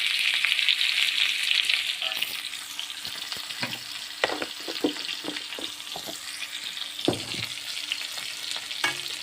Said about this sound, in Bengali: কলাটা লাল লাল ভাজা হয়ে গেলে